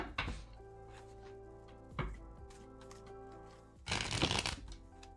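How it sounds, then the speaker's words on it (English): Playing cards given a cleansing shuffle, with three quick riffling bursts close by and short pauses between them, the last burst the longest and loudest. "let me do a cleansing shuffle"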